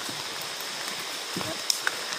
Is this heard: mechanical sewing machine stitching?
no